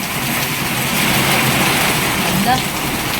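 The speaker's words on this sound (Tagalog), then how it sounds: "Grabe na ang ulan." Heavy rain pours steadily outside a house in Cagayan de Oro city, a loud, dense hiss close by with a brief voice over it.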